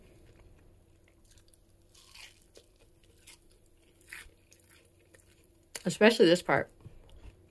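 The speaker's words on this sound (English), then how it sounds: "I'm chewing right next to the microphone because I really want you guys to hear how crispy it is." Crispy, dark-baked keto flatbread chewed right beside the microphone: after quiet rustles and a brief spoken remark, a loud cluster of close crunching bites breaks out near the end.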